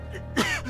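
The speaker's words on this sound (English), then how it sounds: "Cough." A single rough cough with a throat-clearing quality, close and brief, from a man in a fantasy role-playing game cutscene, followed by a short breathy tail.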